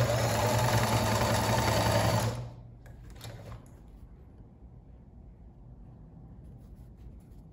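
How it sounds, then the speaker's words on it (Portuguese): A sewing machine stitches a cotton dish towel in a steady loud whir for about two seconds, then stops, leaving faint room noise. "Então eu venho com o retrocesso e começo a costurar."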